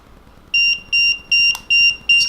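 Five short, shrill electronic beeps from a ghost-hunting detector repeat at a steady pace, each about a fifth of a second long, with a faint click between two of them.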